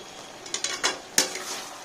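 Pre-fried potatoes being stirred in a curry pot with a spoon, a few distinct scraping clinks against the metal over a faint background sizzle.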